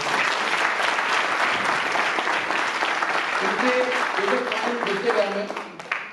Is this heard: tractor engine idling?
no